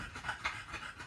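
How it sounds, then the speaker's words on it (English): A dog panting in hot weather, quick rhythmic breaths repeating steadily and close by for about a second, with no talking. "He's panting."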